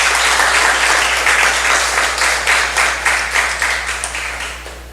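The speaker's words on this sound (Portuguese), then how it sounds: "Então dê uma salva de palmas aí para esse Deus que é Jesus." A church congregation gives a round of applause during a sermon, dense clapping that starts strong and gradually fades, with a low steady hum underneath.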